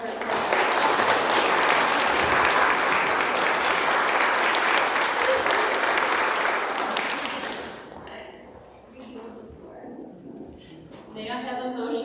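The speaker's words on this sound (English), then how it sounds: "can we give her a round of applause thanking her for her service?" A congregation at its annual meeting gives a sustained round of applause in an indoor hall, loud and dense for several seconds before fading into scattered claps, with voices starting up at the end.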